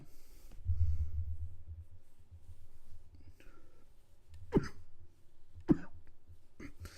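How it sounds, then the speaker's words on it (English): Two quick coughs a second apart cut through a quiet room, after a soft muffled rumble and faint rustling. "Excuse the coughing, everyone."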